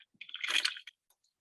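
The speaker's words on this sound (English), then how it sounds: "you need some kind of container to mix your seedling or potting soil mix in" Potting or seedling soil being mixed in a container: a single short, damp squishing crunch, close and moderately loud, followed by a few faint crumbly ticks and then quiet.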